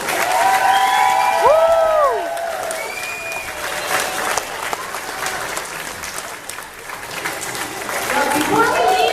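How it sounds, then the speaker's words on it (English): An audience at a spring school drama club play breaks into sustained applause with scattered cheers and children's shouts, voices calling out over the clapping, which dips midway and swells again at the end. "Can we give another round of applause?"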